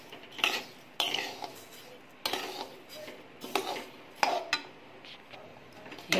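Rice grains dry-roasting in a pan over a low flame while being stirred for chakli flour, with a series of sharp metallic scrapes and clinks of the spatula against the pan at irregular intervals, fairly close and with no talk.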